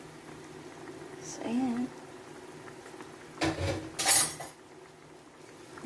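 A metal lid is set onto a cooking pot of simmering Filipino dinengdeng vegetables, giving a brief clatter and clink amid low bubbling, with a voice speaking briefly beforehand.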